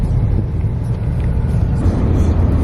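Trucks rumbling past near a tank farm in Alaska at 65 below zero, a loud continuous low engine drone with no pause, close to the listener.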